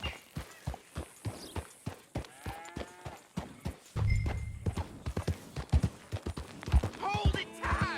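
A horse's hooves clip-clop in a fast, steady rhythm in Red Dead Redemption, the sharp hoof strikes running through the whole stretch under game sounds and some voices.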